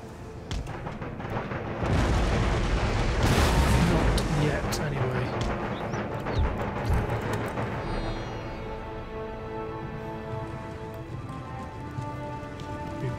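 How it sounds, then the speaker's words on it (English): Howitzers firing quicklime shells in an Empire: Total War battle, heard as a dense crackling barrage with heavy booms and a loud burst near the start, fading into continuous rumbling battle noise. "Then my howitzers in the centre, firing good old quicklime"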